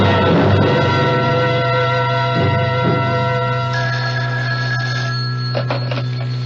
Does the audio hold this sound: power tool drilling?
no